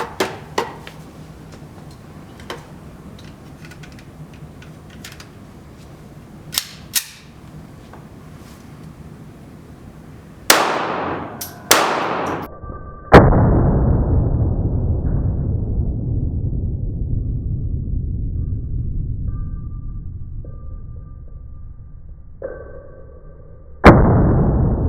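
Pistol shots from a Smith & Wesson .380 Bodyguard and a .380 EZ, a few sharp, close cracks clustered together and one louder blast with a long fading ring, followed later by another single shot, amid clicks and handling sounds.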